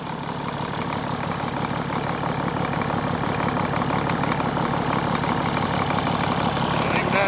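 A Caterpillar D6C bulldozer's diesel engine, rebuilt with a new head and turbo, idles steadily after a cold start, a loud, even rumble with a fast knocking beat that holds constant throughout.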